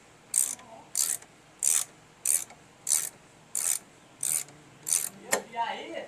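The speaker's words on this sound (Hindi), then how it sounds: "तेरह एम एम का रिंग स्पिनर लेकर के इसको हम आस्ते आस्ते यहाँ पर टाइट करेंगे, बूस आस्ते आस्ते बाहर निकल रहा है।" A 13 mm ring spanner is worked to draw out a Honda Activa rear shock bush, producing about nine evenly spaced metallic clicking bursts, close and crisp, with quiet gaps between strokes.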